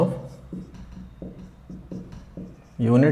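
Marker or chalk writing units of derived quantities on a board for a physics lesson: a series of short, evenly spaced scratchy strokes, then louder speech-like sound at the very end.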